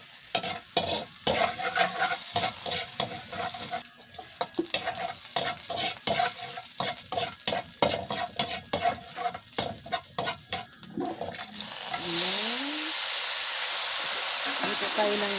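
Onion and garlic sizzle and fry in a pan for a simple vegetable dish, with steady stirring scrapes and clatter through most of the clip, then a louder, continuous hiss of frying toward the end.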